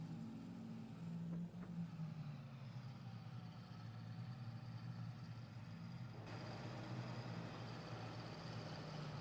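A ZIL-131 truck with a 150-horsepower petrol engine in Farming Simulator, its engine held at a steady, low, droning rev that brightens slightly partway through, heard alone without talk.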